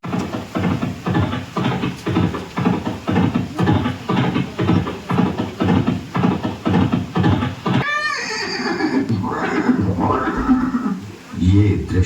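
Chetak, Maharana Pratap's horse, neighs loudly in a long, shaky whinny after a stretch of steady rhythmic pulsing sounds.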